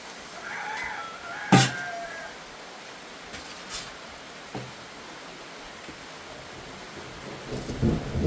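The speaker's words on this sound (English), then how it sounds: "Thank God for the little rain" Light rain falls outdoors on a diving day out, a soft steady patter under a few faint scattered knocks and thumps, fairly quiet throughout.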